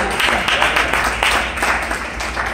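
A church congregation claps for the Lord at a children's service, a dense, fairly loud patter of many hands held steady throughout.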